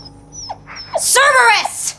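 A dog on a comedy show setting gives a short series of high yips and whimpering whines, fairly close and loud, rising into a sustained wavering whine.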